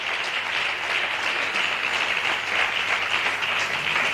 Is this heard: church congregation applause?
yes